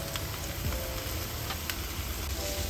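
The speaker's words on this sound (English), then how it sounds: "I'm gonna start by adding the onions, carrot, celery, and my garlic cloves" Onions, carrots, celery and garlic cloves sizzle in a soup pot, a faint, even hiss with scattered crackles throughout and no talk.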